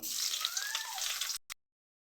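Steady sizzling of onion and crushed garlic frying in hot oil, close and fairly loud, cutting off abruptly near the end.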